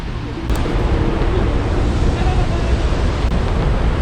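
Laksforsen, a wide and powerful waterfall in Norway, sends water crashing down with great force: a dense, steady roar that fills the whole clip, swelling slightly after the first half second and holding close and loud throughout.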